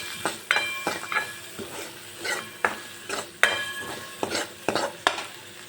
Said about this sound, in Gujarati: હવે ડુંગળીને હું ગોલ્ડન બ્રાઉન સુધી કૂક કરી લઈશ